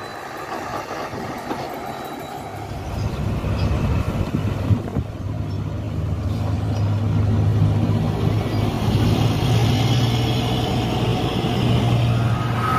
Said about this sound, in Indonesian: Inilah beberapa unit dump truck